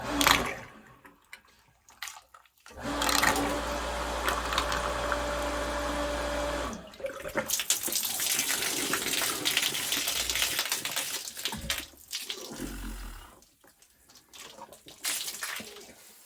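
Water rushing through a lodge's shallow water pump system as pressure builds, a loud steady gush in two long bursts separated by brief pauses and quieter clunks, close by with no talk.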